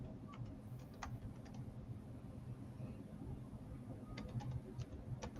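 Typing on a computer keyboard, quiet irregular clicks in short clusters near the start and again toward the end, faint under a low room hum with some soft background voice.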